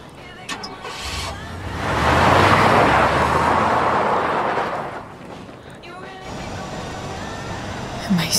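A car in Life Is Strange: Before the Storm drives past, a broad whooshing engine rush that swells and fades over a few seconds, surrounded by quieter game ambience and voices.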